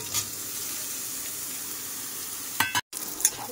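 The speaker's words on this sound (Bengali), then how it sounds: "সয়াবিনটা ভেজে নেবো।" Soybean chunks fry in a wok on a gas stove with a steady, fairly loud sizzling hiss, broken near the end by a couple of brief clatters and a sharp cutoff.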